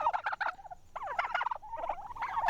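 Turkeys in a farm shelter gobble in rapid, warbling bursts, several calls overlapping close by with short pauses between them.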